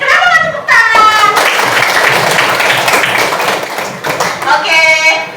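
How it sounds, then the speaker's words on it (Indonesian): Students in a classroom clap their hands together for a group, a dense burst of applause lasting several seconds, with voices speaking before and after. "Tepuk tangan untuk kelompok integritas."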